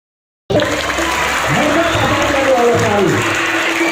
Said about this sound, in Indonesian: Tepuk tangan untuk SMP 2 Los